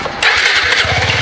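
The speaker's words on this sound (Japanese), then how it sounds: "エンジンかけます" A Suzuki V-Strom 250SX motorcycle engine cranks and catches, settling into a steady low idle rumble that runs loud and close throughout.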